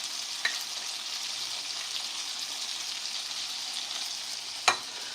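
Garlic sizzles in a frying pan for string beans, a soft, steady crackle with a couple of sharp clinks, no talking.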